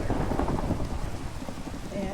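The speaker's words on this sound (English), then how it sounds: "And, oh dear, thunderstorm, huh?" A Minecraft thunderstorm rolls on with steady rain hissing and low rumbling thunder, moderately quiet and continuous, with no talking over it.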